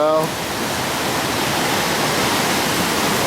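Rushing water pouring through a river fish ladder where salmon come upstream, a loud, steady broadband roar close by, with a brief voice at the very start.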